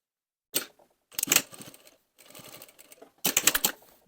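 A sewing machine runs in short bursts, top stitching the welt of an angled waistcoat pocket, with brief quiet pauses between the rapid stitching runs.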